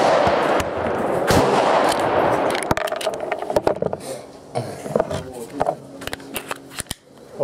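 Glock 42 pistol fired at close range: a few sharp cracks early, then a run of clicks, knocks and handling rattles as the gun jams, with voices talking over it.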